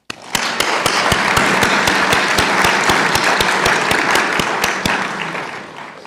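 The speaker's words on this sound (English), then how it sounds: "Let's have a round of applause for everyone who's in the room today." A room full of people at a University of Rhode Island College of Nursing ceremony breaks into applause, dense clapping with a few sharp individual claps standing out, sustained for about five seconds before thinning out.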